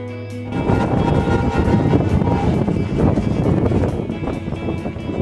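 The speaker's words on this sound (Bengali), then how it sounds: "আমরা শিলিগুড়ি ইন্টারসিটি যে এক্সপ্রেস ট্রেনটি ছিল ওটাকে বেছে নিয়েছিলাম" The Siliguri Intercity Express rumbles along at steady speed, a loud continuous roar of wheels and rushing wind inside a general compartment, with no voices.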